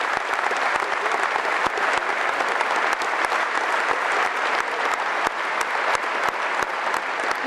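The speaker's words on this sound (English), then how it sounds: "everyone give a round of applause to John Bilton" An audience claps in a sustained burst of applause, dense and even from start to finish, close and fairly loud, with faint crowd murmur underneath.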